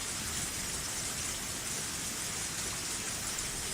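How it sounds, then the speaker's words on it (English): Steady rain from the Higurashi video game, a dense continuous hiss of falling water with fine patter, constant and fairly loud throughout with no voices or other sounds. "Now we have rain sound effects."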